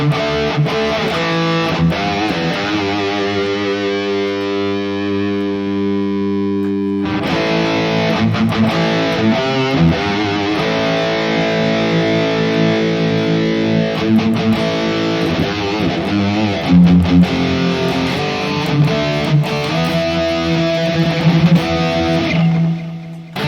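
Electric guitar played through a Harley Benton DNAfx Git Pro distortion, dense and loud with sustained chords and riffing, ringing out alone, briefly thinning around seven seconds before the heavy distorted tone resumes.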